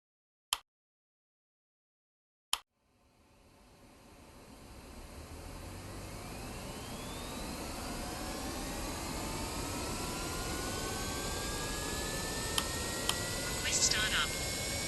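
Concorde jet engines spool up in a flight simulator game, starting after two sharp clicks and swelling into a rising whine with climbing tones that build steadily over several seconds, with no talk.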